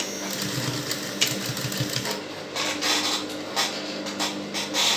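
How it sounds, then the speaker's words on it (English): Sewing machine stitching an Ankara fabric strip onto a polo T-shirt, a steady close mechanical whir of rapid needle strokes running throughout with brief pauses and a few small knocks. "I'm going to be stitching it. So I'm going to be stitching it down like so."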